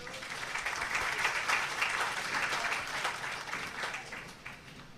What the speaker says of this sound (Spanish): Se acerca nuestro decano Oliver Aquino, al cual le brindamos un bonito aplauso, por favor.